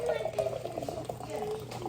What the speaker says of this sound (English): I'm gonna go ahead and pour that in first